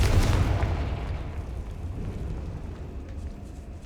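Confringo explosion spell in the game Hogwarts Legacy, a loud deep boom at the start that rumbles and slowly fades over several seconds.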